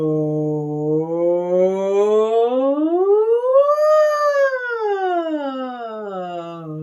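A single sustained human voice imitates a siren, starting low, gliding smoothly up to a peak and sliding back down, clear and close with no other sounds.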